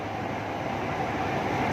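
A train in Cambodia rumbles steadily on the line between Phnom Penh and Sihanoukville, a continuous broad, close roar with no pauses.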